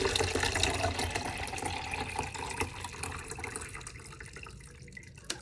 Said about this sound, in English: we are going to see what happens when we put the water in